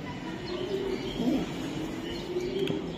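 A female racing pigeon coos in low, steady murmuring tones, close by and fairly quiet, continuing through the moment with no talk.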